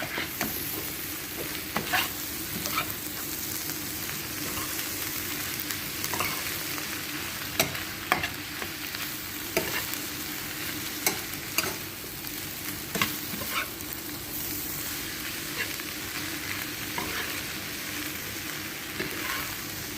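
Cabbage and chicken stir-fry in a frying pan, a constant loud sizzle broken by frequent scraping stirs of a utensil against the pan.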